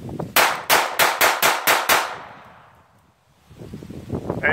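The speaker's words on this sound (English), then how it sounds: "Let's shoot the last one." An Ekol Volga pistol is fired outdoors in front of a forest: seven loud, sharp shots in quick even succession, then a fading echo and some rustling wind noise.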